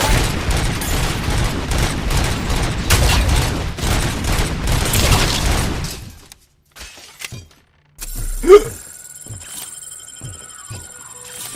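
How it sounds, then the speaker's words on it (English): Rapid video game machine gun bursts crackle loudly for about six seconds, then give way to scattered sharp shots and a single heavier impact against near silence. "Machine gun."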